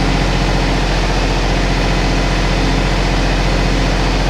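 Weedinator weeding robot engine runs at fast, steady revs, a loud, continuous droning hum that holds evenly throughout without pauses.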